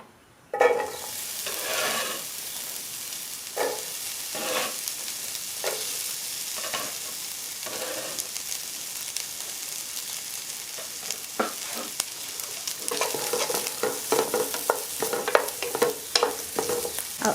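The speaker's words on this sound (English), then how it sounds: "So I'm adding in some avocado oil, and I'll add some onion." Onion frying in avocado oil in a pan, a continuous close sizzle broken by scraping stir strokes that grow busier toward the end.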